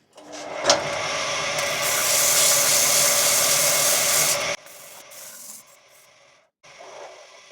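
Steady abrasive rubbing of sandpaper on a turned wooden mallet head for several seconds, then it stops and a few quieter scrapes and handling sounds follow.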